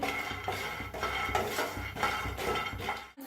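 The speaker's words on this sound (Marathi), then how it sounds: "आता आपण गॅसवर ठेवला पॅन शेंगदाणे भाजून घेऊया" Raw peanuts rattle and clink against a metal pan on a gas stove as they are stirred while roasting. The knocks come in quick, regular bursts, close up and fairly quiet, and no voices are heard.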